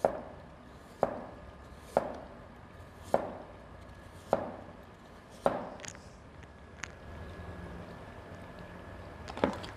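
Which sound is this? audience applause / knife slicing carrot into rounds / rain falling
knife slicing carrot into rounds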